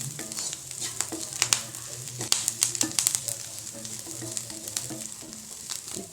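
Onions with mint and coriander leaves sautéing in a pan for onion kara chutney: a close, steady sizzle punctuated by bright clinks and scrapes of a spoon stirring.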